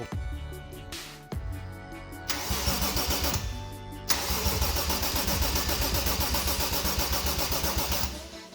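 A car engine cranks in short whirring bursts, falters, then catches and settles into a steady rough idle after an engine swap, loud and close with no talking.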